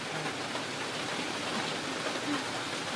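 Heavy rain pouring down outdoors during termite-mushroom foraging, a dense, steady hiss of drops on surfaces that continues evenly throughout.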